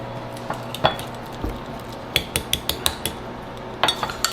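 Herbs being mixed in a bowl for a Thanksgiving turkey, with a run of sharp clinks and knocks of a utensil against the bowl, close and irregular, some in quick clusters, with no talk.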